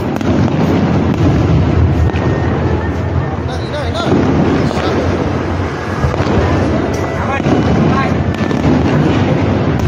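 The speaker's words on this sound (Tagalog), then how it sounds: "na-excite na kami mapanood ang mga nagagandahang fireworks" Chinese New Year fireworks burst continuously in a dense, loud barrage of explosions and crackling with wind noise on the microphone, and people's voices can be heard faintly in the mix.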